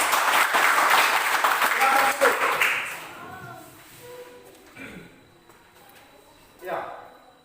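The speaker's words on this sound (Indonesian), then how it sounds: "tepuk tangan untuk Leslia" Classroom audience claps for a student presenter during a teaching-practice session, a dense burst of applause for about three seconds that thins into scattered claps with voices talking over it.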